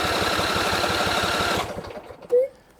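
A Briggs & Stratton V-twin engine on a John Deere L120 lawn tractor cranks steadily for about a second and a half with a fast, even chugging rhythm and does not catch, then the starter cuts out, leaving a brief squeak and quiet.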